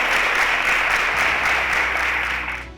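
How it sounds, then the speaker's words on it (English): A burst of enthusiastic applause from a quiz show audience, dense steady clapping that fades out at the end. "A round of applause for them."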